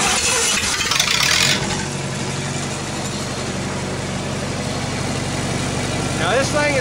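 A Lincoln SA 200 welder's engine runs at a steady, loud, close mid-pitched drone after a brief rougher burst at the start, with a faint rising whine near the end.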